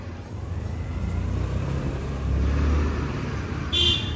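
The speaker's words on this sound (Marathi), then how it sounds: "गाडीने पहिला चांगला पिकअप घेतलेला आहे" A car under way on a test drive, its engine and road rumble steady and close throughout, with a brief higher whine near the end and no talk.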